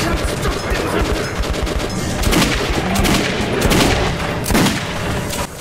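Rapid gunfire from guns in Metro 2033 Redux on Ranger Hardcore difficulty, a dense run of loud, close shots crackling almost without pause over a busy game-combat backdrop.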